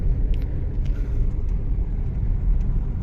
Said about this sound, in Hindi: हाँ, ट्रैफिक भी मिलेगा, ट्रैफिक से आप बच नहीं सकते हैं।